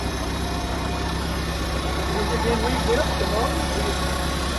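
Old International Cub tractor running on its original engine, a steady low idling rumble with faint mechanical vibration, heard close and continuous without talk.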